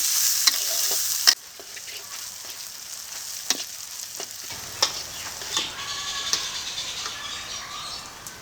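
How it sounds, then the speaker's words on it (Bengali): Chopped onion fries in a pan, a continuous close sizzle with sharp scraping clicks as a spatula stirs it; the hiss softens after the first second and stirring taps continue throughout. "দিয়ে দেবো পেঁয়াজ কুচি পেঁয়াজটাকে এখন ভেজে নেব"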